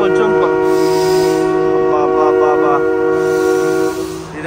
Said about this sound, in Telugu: ఇదిగోండి ట్రైన్ అయితే వచ్చింది చూడొచ్చు